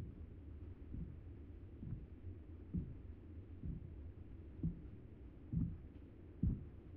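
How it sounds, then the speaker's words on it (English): A heartbeat sound effect in a VRChat horror world pulses in slow, regular, muffled low thumps, quiet and steady, with no talking over it. "This is my heartbeat."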